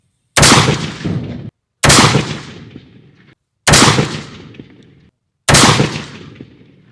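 Four loud, sharp rifle shots from Winchester Varmint X .223 55-grain polymer-tip ammunition, evenly spaced about two seconds apart, each followed by a long ringing decay, with no talk.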